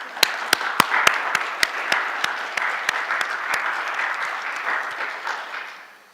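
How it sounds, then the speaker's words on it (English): A congregation applauds together, starting with several sharp, distinct claps that quickly merge into a steady, full round of clapping that holds, then tapers off toward the end. "Would you please give yourselves a big round of applause?"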